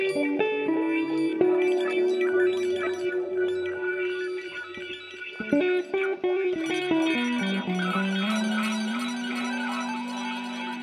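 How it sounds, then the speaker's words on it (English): Polyphonic synth tones run through a tape delay whose time is switched by a square-wave LFO in VCV Rack, jumping between two pitch levels about an octave apart, with dense echoing repeats and a continuous, fairly loud sound and no talking. "this is using tape delay with the time being modified by a square wave LFO"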